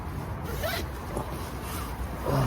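A zipper is pulled closed on camping gear while stealth camping under a viaduct, a rasping zip sounding close, in a few strokes over a couple of seconds, with no talk.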